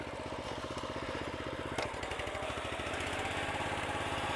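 A manual reel mower rolls down a sloped lawn under its own weight, its spinning blades giving a steady close whirring clatter with a fast rhythmic ticking throughout and no talking.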